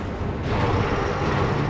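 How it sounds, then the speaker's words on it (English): Rumbling video game explosions in Metroid Prime, a dense, continuous blast of noise that swells slightly after the first half second and stays loud without clear breaks. "Subsequent explosions kills off the two space pirates hiding in the ceiling."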